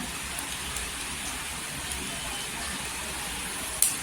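Green chillies hit a hot pan of roasting peanuts, giving a steady, fairly quiet hiss of sizzling with a small crackle near the end.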